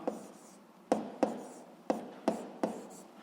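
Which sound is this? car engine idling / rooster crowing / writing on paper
writing on paper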